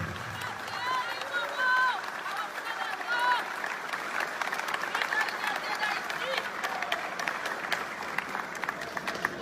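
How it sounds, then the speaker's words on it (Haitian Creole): An audience applauds at a live French-language show, with a dense, moderately loud wash of clapping that continues steadily over several seconds alongside faint crowd noise and voices. "Applaudissez-vous encore une fois, s'il vous plaît."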